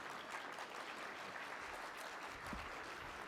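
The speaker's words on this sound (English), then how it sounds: "can we just get a round of applause for all of the help they've done?" An audience at a panel discussion event gives quiet, steady applause in thanks to sponsors. The clapping sounds soft and somewhat distant, a continuous patter with no voices standing out.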